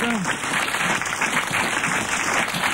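A studio audience at a French radio panel show applauds steadily throughout, a dense, even wash of clapping with no pause.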